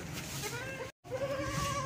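A large goat kept as livestock and dressed in a sweater against rain and cold bleats close by, a couple of loud, wavering calls broken by a brief cut.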